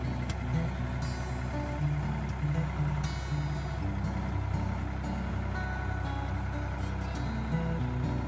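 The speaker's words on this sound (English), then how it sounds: "the process of moving it with the tractor slow" A tractor slowly moving a heavy chicken coop, a steady low engine drone with some rattling and clanks that stays fairly close throughout, while faint voices come and go.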